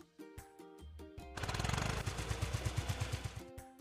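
A loud hydraulic drill boring a well in a video game revs up and hammers in a rapid rhythm for a couple of seconds, between short electronic game sounds.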